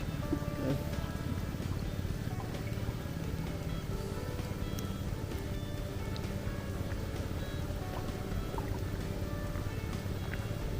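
A steady low engine drone from a boat on the Mekong River runs throughout, with faint water and background clatter, no clear speech.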